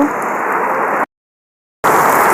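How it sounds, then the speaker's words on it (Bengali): Heavy rain pours steadily as a dense, loud hiss during a darkening downpour, cutting out to silence for under a second before resuming just as strong. "বৃষ্টি কিন্তু আগে থেকে আরও জোরে নামতেছে"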